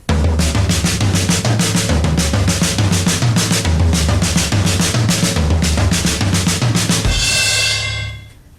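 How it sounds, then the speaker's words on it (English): An awkward cross drum pattern, the left hand crossing over the right onto the floor tom, plays as a loud, continuous flurry of rapid strokes with cymbals, ending in a ringing crash that fades out. "This is the left hand crossing over the right on,"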